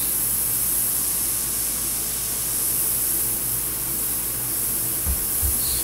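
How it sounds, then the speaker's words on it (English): Harbor Freight airbrush spraying in a steady, close hiss of air that runs unbroken, with a couple of faint low knocks near the end. "I'm actually very impressed with this airbrush."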